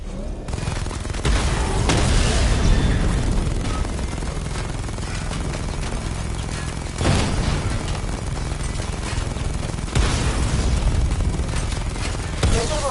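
Missile barrage and weapon fire destroying targets in the Batman Arkham Knight video game, a dense continuous roar of explosions and booms with several louder bursts across the whole stretch.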